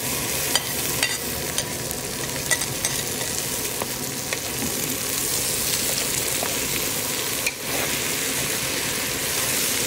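Chopped okra frying in a hot pan for adobong okra with danggit, giving a steady, loud sizzle that runs throughout, with scattered stirring clicks and scrapes and no talk.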